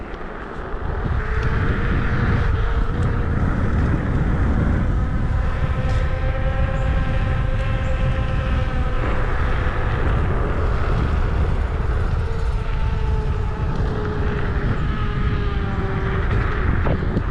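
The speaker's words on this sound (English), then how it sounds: "That was 32 miles an hour downhill, which is pretty neat for an EV scooter out of the box" An Ausom L1 electric scooter runs downhill at about 32 mph, its steady rising motor whine riding over loud, continuous rushing wind noise for the whole stretch, with no talking.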